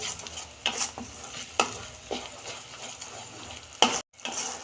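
Spiced broad beans being stirred and sautéed in a pan, with a steady sizzle broken by repeated scraping strokes of a spatula, close and moderately loud, and a brief gap near the end.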